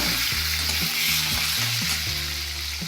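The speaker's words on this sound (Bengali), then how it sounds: "এবার ওই তেলের মধ্যেই আমি আলুগুলো ভেজে নেব।" Potatoes fry in hot oil left over from frying bhetki fish bones, giving a loud, dense sizzle with bursts of stirring noise and a low background hum.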